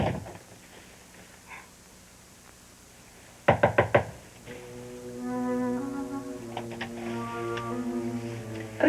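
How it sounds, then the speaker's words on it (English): Four quick, firm knocks rap on a door, loud and close, followed by sustained tonal music. "don't come out until I knock"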